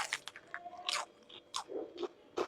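Crispy fried street snacks on skewers are bitten and chewed, with several sharp crunches in an uneven rhythm, close to the microphone and with no talking.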